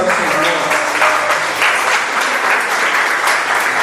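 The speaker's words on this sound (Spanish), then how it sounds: "Un aplauso al Señor." A church congregation applauds during a Spanish-language service, a loud, even wash of clapping from many people that holds steady for a few seconds.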